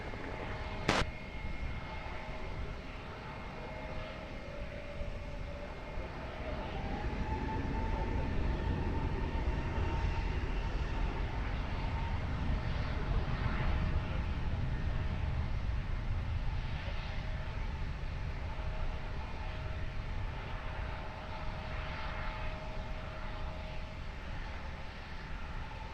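An airliner takes off from runway 20 at Lisbon Airport, a broad, continuous jet engine roar that swells and holds steady for a long stretch, heard from a distance.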